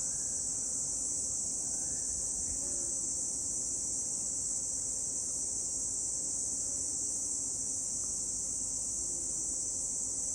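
Crickets and other insects chirp steadily outdoors at sunset beside a pool, a dense continuous high-pitched buzz that fills the whole stretch at moderate, even loudness with no one speaking.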